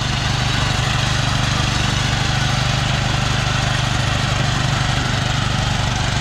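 A tractor with a mounted mower cutting a fallow field, its engine droning loud and steady with a low throbbing rumble at close range, unbroken throughout.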